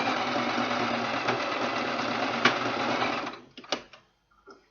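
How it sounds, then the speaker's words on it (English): Sewing machine stitching Ankara fabric and leather for a handmade purse wallet, running steadily and close for about three seconds before stopping, followed by a few short bursts and clicks. "Very careful in sewing."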